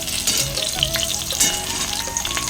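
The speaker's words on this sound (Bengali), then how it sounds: "এবারে পেঁয়াজটা ভেজে দিই।" Onion frying in oil in a pan for an egg curry, a steady close sizzle and crackle with occasional stirring scrapes, no talking.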